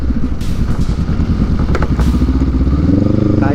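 A Honda Rebel motorcycle with an adventure setup rides off-road, its engine chugging loudly and rhythmically close by, with clattering and thumps over rough ground as the revs climb toward the end.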